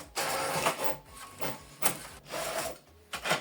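A Brother MFC-J5740DW inkjet printer runs through a print job, its print head shuttling in repeated rasping passes separated by short mechanical pauses and clicks, close and moderately loud.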